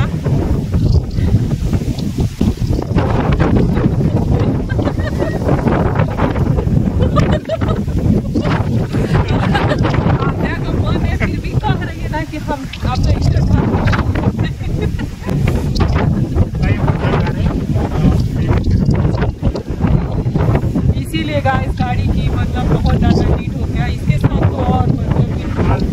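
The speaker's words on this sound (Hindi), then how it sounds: "और देखिए कितना तेज हवा चल रहा है" Strong wind buffeting a microphone outdoors in Dublin, a loud continuous roaring rumble with gusty surges throughout, and faint voices mixed in.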